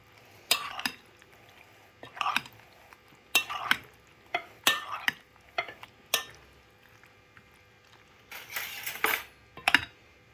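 Spices being mixed into dried apricot chutney with a spoon, heard as intermittent clinks and scraping taps against a bowl, quiet and close, in irregular bursts.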